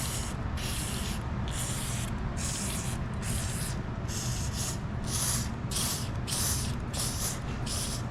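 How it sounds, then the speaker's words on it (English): Penetrating oil is sprayed in a rapid series of short, close hissing bursts over brittle plastic clips on a 2009 Nissan 370Z 3.7L V6 during an intake filter job, about a dozen sprays in steady rhythm. "I'm going to take this penetrating oil, I'm going to spray them all down"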